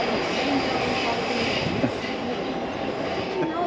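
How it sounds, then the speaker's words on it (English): An old train rolls past on a railway line in Athens, making a steady, close, broadband rumble throughout, with voices faintly mixed in. "You see there's like a train passing by now?"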